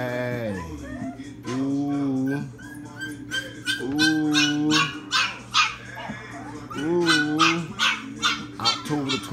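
A small puppy close by gives drawn-out whining howls, then a quick run of high, sharp yips, with a person's voice now and then.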